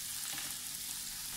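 Onion, ginger, green chilli, garlic and curry leaves sautéing in a pan for a Kerala-style fish molee, giving a steady, dense close sizzle with no voices.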